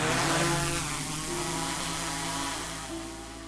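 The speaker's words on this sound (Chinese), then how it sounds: "同时也有无人机起飞降落的桨叶声。" Drone propellers spinning for takeoff and landing give a loud, steady buzzing whine with a layered harmonic hum. It sounds alone and eases slightly toward the end.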